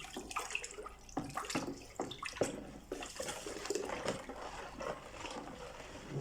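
Water splashes and gurgles into a bucket in irregular pours while making liquid soap, with soft sloshing and bumps throughout.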